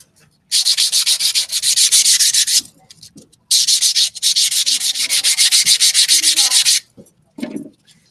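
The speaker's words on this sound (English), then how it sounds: "then using the 100 grit side of my 100-180 buffer" A nail is buffed with the 100 grit side of a 100/180 nail buffer, giving close, loud, rapid scratchy strokes in two long bursts separated by a short pause, followed by a brief softer rub.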